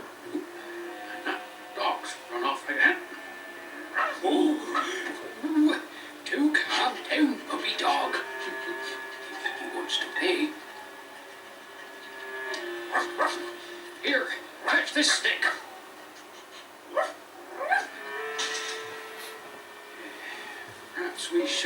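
A dog in a Noddy children's cartoon barks and yips in repeated short bursts, mixed with whimpering sounds, over lively background music.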